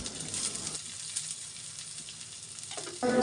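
Chopped garlic hits hot oil already crackling with panch phoron, giving a steady close sizzle and fry that softens midway, then flares louder again near the end as it is stirred.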